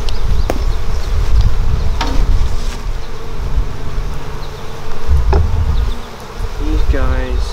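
Honey bees buzz loudly and continuously during a hive inspection, a dense close-up drone with individual bees whining past the microphone and occasional knocks and handling sounds.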